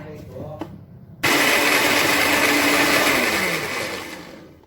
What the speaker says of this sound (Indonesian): Langsung saja kita blender.